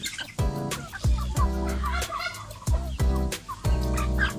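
Native backyard turkeys gobbling at feeding time, several loud, rattling gobbles in quick bursts, close by, with chickens clucking and birds calling around them.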